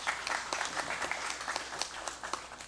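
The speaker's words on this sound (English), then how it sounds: "Please give her a round of applause." An audience in a legislative session hall of a regular congress session applauds a guest in the gallery, with dense, steady clapping throughout that fades slightly toward the end.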